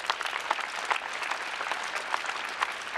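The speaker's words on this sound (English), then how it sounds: "let's have a little bit of applause for her" An audience at a leadership summit claps for Maria Pope, with a steady burst of applause throughout and no talk.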